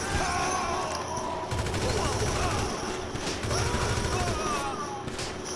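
Sustained, dense gunfire in GTA V Online, many weapons crackling continuously over a steady noisy background, with a voice speaking over the shooting.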